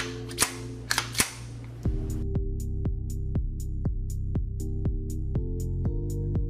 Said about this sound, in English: We have to slide it back and forward to ensure the gun oil is everywhere.